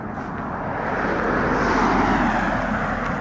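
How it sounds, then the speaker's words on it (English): A single car passes along a quiet residential street, a broad steady rumble swelling to its closest point near the middle and easing slightly, fairly near and alone with no talk. "Typical car going by"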